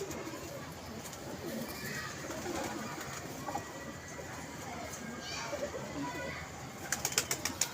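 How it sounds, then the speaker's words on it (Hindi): Pigeons at a pigeon club coo softly in the background while someone talks over them, with occasional wing flaps and a burst of clattering near the end. "और एक और कबूतर मैं आपको दिखाता हूँ"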